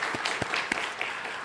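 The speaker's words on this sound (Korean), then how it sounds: "우리 박수로 축복할까요?" Church congregation applauding during Sunday service announcements, a short burst of scattered hand claps with a few louder individual claps, moderately close and without speech.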